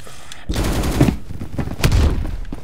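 Rapid bursts of LMG machine gun fire in the video game Phantom Forces, set in a subway station, two dense rattling volleys with a short pause between, loud and close, with a voice talking underneath.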